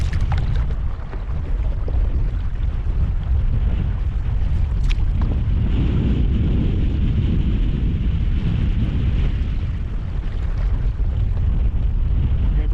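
Strong wind buffets the microphone in a steady, loud rumble throughout, with gusty roaring and no talking.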